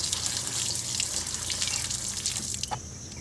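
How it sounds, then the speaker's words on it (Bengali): Running water splashing over Malabar spinach greens being rinsed in a kitchen, a steady close patter and hiss of flowing water with small drips, no talk. "জল দিয়ে বেশ ভালোভাবে শাকটাকে ধুয়ে নিচ্ছি"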